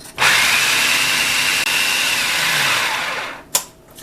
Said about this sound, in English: you can also break up your canned flour with the S-blade in your food processor.